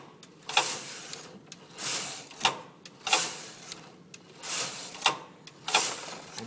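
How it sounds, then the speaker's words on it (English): Knitting machine carriage pushed back and forth across the knitting, about nine rhythmic whooshing, clattering sweeps roughly every 0.6 seconds, close and fairly quiet with no voices. "And then we can knit."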